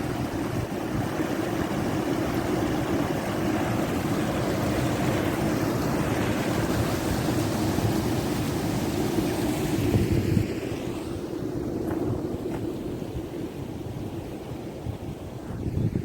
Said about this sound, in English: Here's the top of the waterfall from here.